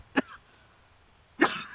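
Two separate coughs from one person, a short one followed by a harsher, longer one about a second later, close to the microphone in a quiet room.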